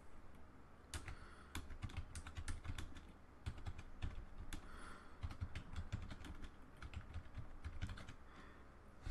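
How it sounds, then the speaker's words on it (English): A passphrase is typed on a computer keyboard as a run of crisp, close key clicks at an uneven pace, with a few heavier keystrokes, alone and quiet. "So let's type it in again."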